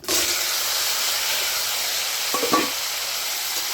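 Okra, mango, a torn dried chilli and five-spice hit hot oil in a pan, giving a loud, steady sizzle that starts abruptly and stays even, with a couple of brief stirring clatters near the end.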